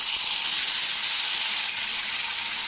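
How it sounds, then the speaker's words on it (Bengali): Fish sizzles in hot mustard oil in a pan, a steady loud bright hiss of frying that stays constant and close for the whole stretch, with no voices. "তো একটা একটা মাছ দিয়ে আমি কিন্তু মাছগুলোকে ভেজে নেবো"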